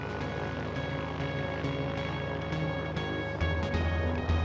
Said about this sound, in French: Les avions profitent d'une courte fenêtre de beau temps.